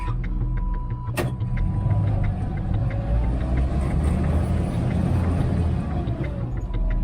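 An old Jeep stuck on an off-road trail revs its engine in a loud, continuous rumble, with a sharp knock early on.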